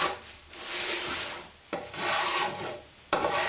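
A hand plane trims the inside edges of a wooden box in close, repeated rasping strokes, three long passes separated by brief pauses.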